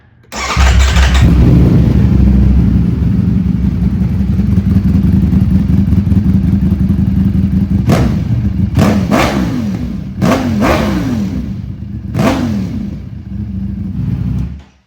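A 2025 Ducati Panigale V4 motorcycle with an aftermarket Akrapovic exhaust starts and idles loudly, then gets several sharp throttle revs in a row, close by with no talking.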